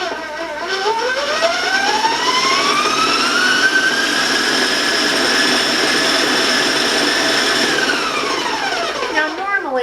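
An electric mixer beats butter and vanilla at high speed, a loud close whirring drone that holds steady with a shifting pitch from the beaters.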